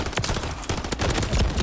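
Sniper gunfire in a video game, a quick string of sharp, close shots in uneven bursts over a short stretch.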